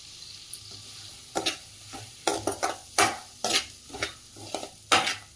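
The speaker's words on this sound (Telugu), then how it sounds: "జీడిపప్పు, కిస్మిస్ ఫ్రై చేస్తున్నాను ఆ నూనెలో." Cashews and raisins frying in ghee are stirred around a pan. Sharp, close scraping strokes come in irregular bursts over a soft, steady sizzle, with no talking.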